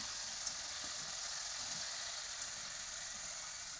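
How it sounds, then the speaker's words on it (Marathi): Khari biscuits crisping in hot oil over a low gas flame, giving a steady, faint, even sizzle with no talking. "हे बिस्किट आपल्याचे खरपूस तळले पाहिजे, असे कडक झाले पाहिजे"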